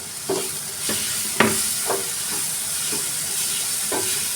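Finely chopped capsicum frying with tomatoes for masala pav, a steady hiss of sizzling broken by a handful of spaced scraping strokes as a spoon stirs the pan.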